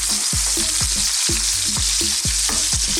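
Sliced red onions crackle in hot sunflower oil in a pan, a steady loud close sizzle broken by regular soft thumps, with no voices.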